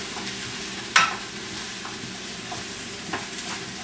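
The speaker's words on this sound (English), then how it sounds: "We got our peppers and onions are softening up here nicely." Peppers and onions cook in a pot of Italian sausage and peppers soup with a steady soft sizzle, broken by a sharp utensil clink early on and a few lighter stirring taps.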